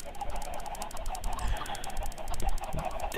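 Dense, overlapping clucking from a flock of about 200 chickens in modded Minecraft, a steady loud chatter of game fowl sounds running continuously through the clip.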